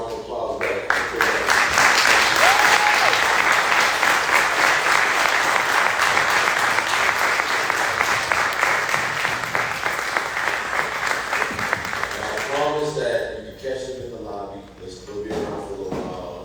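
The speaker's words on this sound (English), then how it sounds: "I want everybody here to give us a round of applause back." Festival audience at an urban film festival bursting into sustained applause, dense clapping filling the room for about twelve seconds before thinning out, with a voice talking over the tail end.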